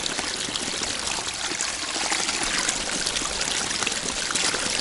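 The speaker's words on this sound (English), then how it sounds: "Not often we have fresh snowmelt water coming down this coulee." Fresh snowmelt water rushes down a coulee in a steady, close, broadband gurgle and hiss that stays even and unbroken throughout, with no voices.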